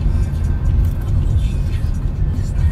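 A car drives along on the way to work, its low, steady engine and road rumble heard from inside the cabin while someone talks over it.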